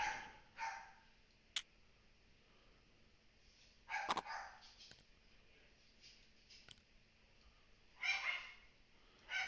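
Dogs bark in short bursts at a distance, with a few separate yips and clusters of barking spread across a quiet background and a faint steady hum underneath.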